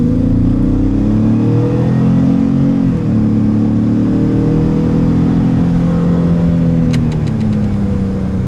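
A 2021 Ford F-150 King Ranch hybrid pickup accelerates hard, and a steady mid-pitched engine drone rises and holds close and loud throughout. A few faint clicks come near the end.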